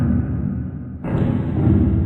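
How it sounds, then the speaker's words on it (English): A spaceship docking effect from a sci-fi film: a low rumbling hum that jumps abruptly to a louder, brighter roar halfway through, with no voices. "That's the sound of a ship docking with us."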